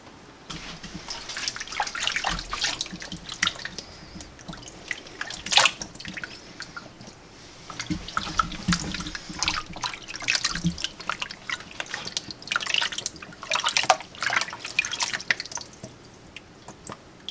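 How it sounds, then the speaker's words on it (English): Sand plums being washed by hand in a bath of cold water, with steady dripping, trickling and soft splashing that continues throughout at close range, and no talk. "So we just put them in the cold water to wash them and further pick out the bad ones."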